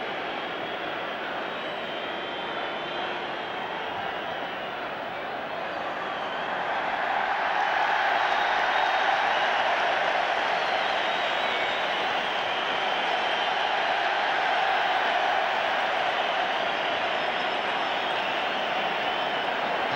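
A packed Wembley Stadium crowd applauds and roars for the England team before a 1975 friendly against West Germany, a distant, steady wash that swells louder after a few seconds and holds.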